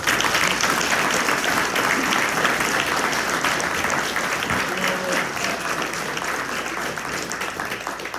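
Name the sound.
audience applause for forum candidates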